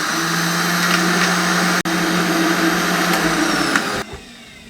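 A juicer blender jug grinds plum pulp for sharbat, a steady loud motor whir running continuously with a brief dip, then dropping away near the end as it stops.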